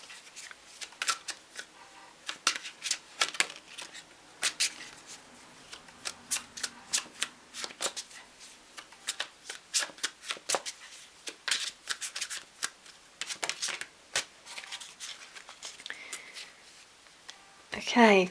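Tarot cards being shuffled for a reading, a long run of crisp riffles and flicks in quick, uneven bursts, close and fairly loud throughout, with no talking.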